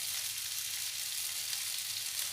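Tomato sauce being added and stirred into Schezwan pasta in a hot pan, giving a steady, close, continuous sizzle with no voices.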